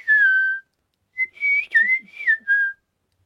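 A person whistles a short birdlike phrase, a long falling note, a pause, then a quick run of warbling slides imitating a meadowlark song.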